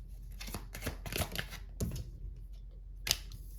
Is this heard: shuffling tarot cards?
yes